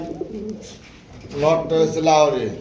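Pigeons of a red-coloured pair coo at a pigeon sale, with a few soft low coos that swell into louder rolling calls close by, while people talk.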